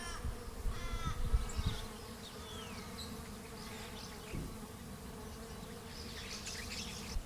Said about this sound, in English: I just realised I'm surrounded by bees